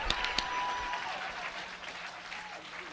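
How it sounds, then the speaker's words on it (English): An audience claps through a church-style sermon on life's hard questions, a dense burst of applause that thins out as it goes on, with faint voices mixed in. "You might as well clap your hands."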